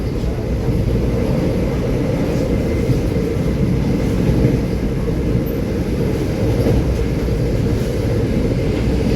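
Steady, loud rumble and rushing noise inside a Vande Bharat Express carriage cruising at about 127–128 km/h between Visakhapatnam and Secunderabad, a continuous close drone with no breaks.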